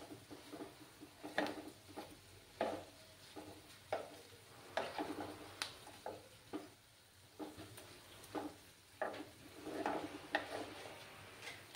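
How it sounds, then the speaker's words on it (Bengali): Curry leaf pakoras frying in a pan, a steady soft sizzle broken by repeated stirring clicks and scrapes at an irregular rhythm, close and fairly quiet, with no talking. "আরও কিছুক্ষণ আমি এটাকে ফ্রাই করে নেব।"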